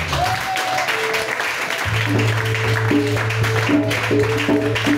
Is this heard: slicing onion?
no